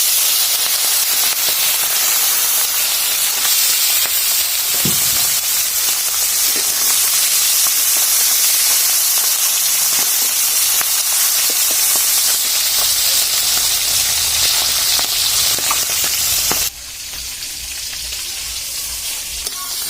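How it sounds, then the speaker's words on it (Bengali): Golsa fish, rubbed with salt and turmeric, fries in hot oil with a loud, continuous sizzle and crackle that fills the scene, easing slightly near the end. "আর এখন মাছগুলো ভেজে নেব।"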